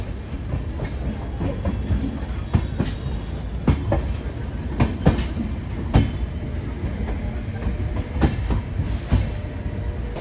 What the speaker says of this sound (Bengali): শিয়ালদা থেকে ট্রেন ছেড়ে এখন ট্রেন তার গতি ধরে নিয়েছে